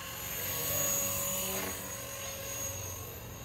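A Blade 230s Smart v2 RC micro helicopter flies nearby, with a steady whirring rotor drone that swells and eases slightly and no talking.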